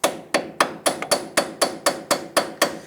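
Hammer tapping an 18mm socket onto a badly rusted outer tie rod nut on a 2000-2006 Toyota Tundra, a dozen sharp, evenly spaced metallic strikes at close range with no talk.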